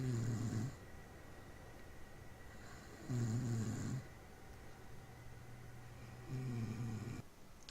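A man snores in a slow, steady rhythm, three deep rasping breaths several seconds apart, faint and muffled against a quiet room hum.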